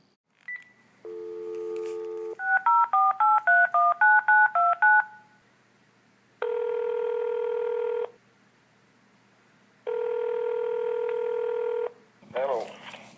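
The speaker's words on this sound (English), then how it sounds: "Why don't we try to reach Mr. Hess by phone" A telephone number is dialed, with a tone, then a rapid run of about eight DTMF beeps, followed by two long ringback tones separated by silence; loud and clear with no talking.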